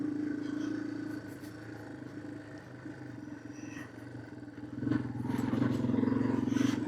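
A Yamaha TW200 motorcycle ridden on dirt, its engine droning steadily up close with clattering and scraping over rough ground, swelling louder near the end as it accelerates.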